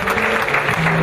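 A short burst of audience applause rings out at a night wedding celebration, with a voice speaking over the clapping.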